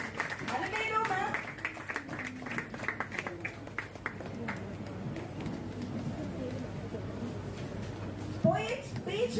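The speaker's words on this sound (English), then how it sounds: "I'll give you a big applause." Audience at a government high school event claps for a teacher, a steady patter of hands spread through the room, mixed with voices and crowd noise.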